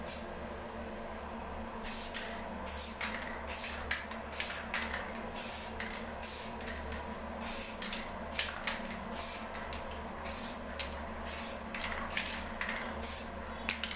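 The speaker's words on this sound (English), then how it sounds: "Test the spray." Repeated short hissing bursts from a spray can of clear coat, close and steady, with a low background hum between the sprays.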